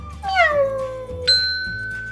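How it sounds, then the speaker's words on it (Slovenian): A cartoon cat meows twice, loud and close: a falling meow followed by a higher sustained one, over soft background music. "mucka."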